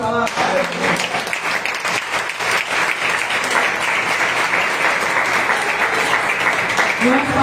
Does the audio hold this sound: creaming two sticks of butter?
no